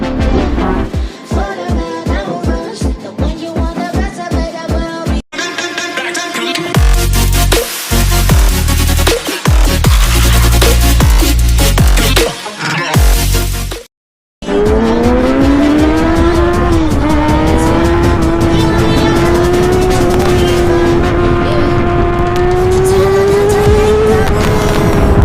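Kawasaki ZX6R inline-four motorcycle revving loudly and continuously while riding past large trucks in Tondo, its high-pitched engine note rising and falling through gear changes, with a brief drop to silence midway before the howl resumes.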